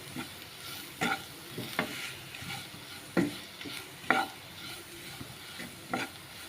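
Vegetables frying with Maggi masala for spicy Maggi noodles, a soft continuous sizzle broken by periodic scrapes and knocks of a spoon stirring in the pan.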